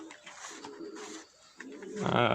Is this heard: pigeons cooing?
yes